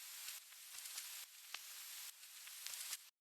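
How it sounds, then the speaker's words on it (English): A vinyl noise effect for a Future Garage track plays as a faint, steady surface hiss scattered with soft crackles and pops, alone, ending abruptly. "It's just this vinyl noise."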